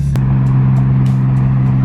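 A BMW E46 M3 drift car with a new 700hp-plus engine holds a steady, loud exhaust drone, broken by one sharp crack early on and a few fainter pops after it.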